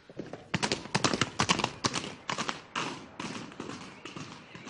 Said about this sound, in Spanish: Esos que van allá a caballo no son Silvia y Luis Gustavo.